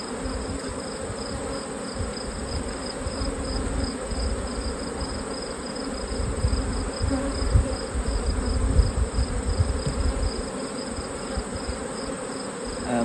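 Honeybees swarm around an open hive with frames lifted during a honey flow, their steady dense buzz continuous and close throughout, with no voices over it.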